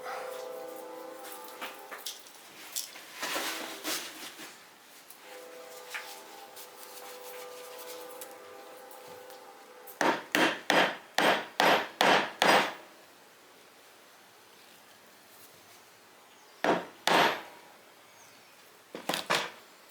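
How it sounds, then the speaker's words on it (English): A handsaw rasps through wood in a quick series of sharp strokes, with earlier scattered scraping and background tones, then a few more strokes later. "It is a flush cut trim saw."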